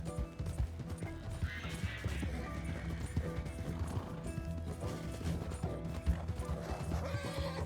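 A horse gallops in Red Dead Redemption 2, with a steady, fast clip-clop of hooves, some whinnying and rattling gear. The sound is continuous and close, with no talking.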